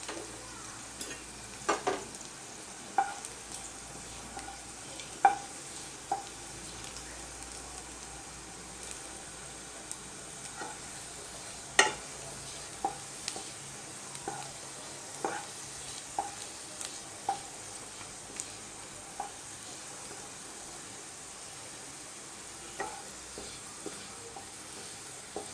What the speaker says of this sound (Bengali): তো রসুনটাকে আমি এখন ফ্রাই করে নেব